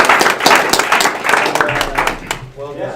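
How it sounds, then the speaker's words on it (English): A small audience at a student computing club meeting claps for the speaker Gennaro in a brief, close burst of scattered clapping mixed with chatter and voices. "just give Gennaro a round of applause"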